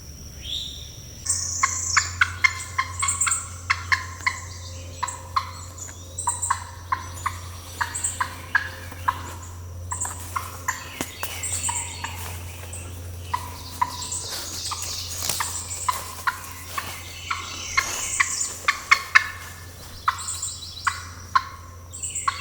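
A hen turkey gobbles and clucks repeatedly at moderate distance, short bursts scattered over a steady low hum outdoors.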